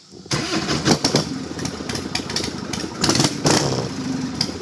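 A motorcycle engine cranks and fires up, then revs in several loud surges before settling into a rough, throaty idle, close by.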